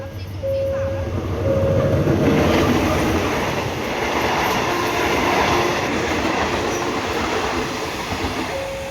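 A train rumbles past close by at a level crossing, with loud, continuous rolling wheels and rhythmic clatter over the rails, plus a faint high squeal.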